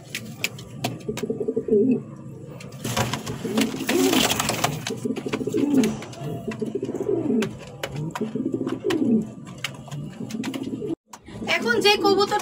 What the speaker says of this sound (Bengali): এখন যে কবুতরটা দেখতে পাচ্ছেন এটা হচ্ছে রেড কালারের ড্যানিশ এবং মাদি কবুতর।